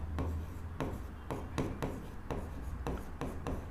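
Chalk or marker scratches across a board while a geometry construction for a Pythagoras theorem lesson is written out, a close series of short, rhythmic strokes and taps at roughly half-second intervals, with no talking.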